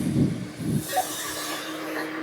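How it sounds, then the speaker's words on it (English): Brakes on a Class A motorhome give a brief high squeal as the vehicle rolls slowly, following a couple of low thumps and a faint hiss. "our brakes squeak a lot"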